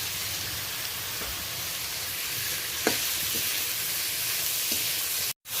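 Onion, tomato and garlic paste with salt fries in a pan for crab curry, giving a steady close sizzle with a few soft stirring taps before cutting out briefly at the end.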